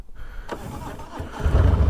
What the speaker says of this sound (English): start the bike up